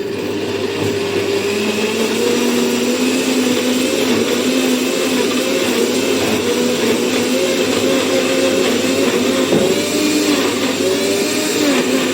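A kitchen mixer grinder runs steadily for several seconds, grinding white pumpkin leaves with a little added water, a loud, close, continuous whirring motor drone with no talk.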